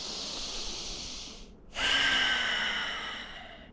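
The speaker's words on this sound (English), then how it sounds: "Allow the breath just to flow in at its natural rhythm through the nose." Slow, deep nasal breathing during a guided relaxation exercise: a long airy inhale, a brief pause, then a louder rushing exhale through the nose, close and alone with no talking.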